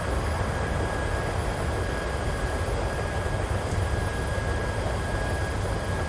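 Steady broadband engine roar inside an airplane cabin as it climbs through clouds in a 30-knot crosswind, a constant, loud, unbroken drone with no voices.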